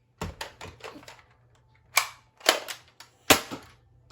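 Adventure Force Hyperspin toy dart blaster firing several times, sharp snappy pops in a loose irregular cluster, then a few separate louder shots, close by with no talk.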